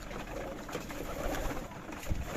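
Many pigeons coo together on a large country pigeon farm, a dense, continuous murmur of soft calls heard close, with no talking.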